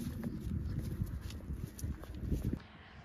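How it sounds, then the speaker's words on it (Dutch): Horses walk in training on hard ground, hooves clip-clopping in a steady, close, uneven rhythm for a few seconds before stopping. "Vandaag gaan wij trainen met onze paarden."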